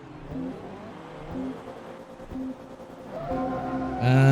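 A Vauxhall car engine in Forza Motorsport 2 revs through rising gear pulls, each shift marked by a brief drop, building to a louder, higher whine at the end over steady road and tyre noise.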